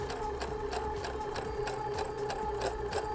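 Sewing machine running steadily with a braiding foot, laying monofilament-thread stitching over braid on fabric; a fast, even mechanical whir with regular needle clatter, close and continuous for several seconds.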